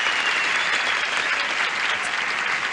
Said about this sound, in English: Would you please applaud Camille Gardner and Dick Fetzger?